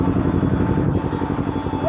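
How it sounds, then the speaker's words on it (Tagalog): Engine drone from a Kawasaki Ninja 400 motorcycle, a steady rumbling idle or low rev heard close by with a fairly constant pulse, while people talk around it. "Motor ni Arvin to eh"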